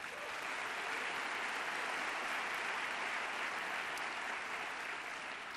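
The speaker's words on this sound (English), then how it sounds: "give them a big round of applause for that." Sustained, even applause from a large summit audience, a thick wash of many hands clapping at constant loudness for several seconds, with no talk over it.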